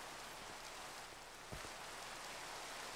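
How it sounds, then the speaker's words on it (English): Steady rain falling in the video game Minecraft, a soft continuous hiss of drops filling the scene with a couple of faint brief taps, no talking. "You're free to wander, and now it's raining."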